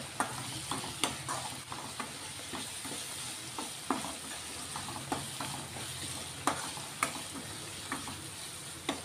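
Turmeric and ginger paste being stirred in a hot pan, with a steady sizzle and a spoon scraping the bottom in irregular strokes, close and clear with no talk.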